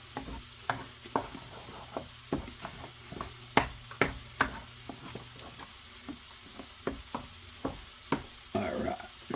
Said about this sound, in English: Bacon is always a good addition to nearly everything. We'll stir this in.